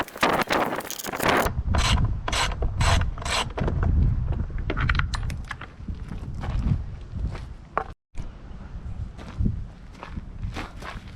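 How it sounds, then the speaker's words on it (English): A torque wrench and socket tighten bolts on a Sea-Doo personal watercraft, giving repeated ratcheting clicks and metallic rubbing with shuffling handling noises, close up and steady, with no talk. "you'll need a torque wrench to install these"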